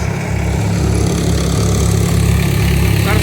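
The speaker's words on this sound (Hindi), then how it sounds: "ट्रैक्टर अपना पुराना वाला है, वही 750।" An old Sonalika 750 tractor engine running steadily during lentil threshing with a cutter, a loud close diesel chug with constant low throb and vibration, no talk.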